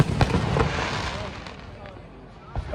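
Several fireworks pop and crackle at a distance at a village fair in Italy, with a few sharper bursts early on amid crowd noise and murmuring voices.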